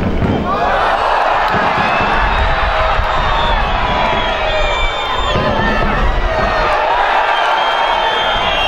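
A dense, loud football stadium crowd roars and cheers continuously on a busy Saturday evening match with Kairat playing, with whistles and shouts rising out of the steady wall of noise.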